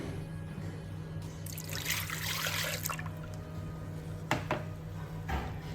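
Milk is poured into a grinder while making vanilla bread dough, a soft liquid trickle and splash, quiet and close, with faint background hum.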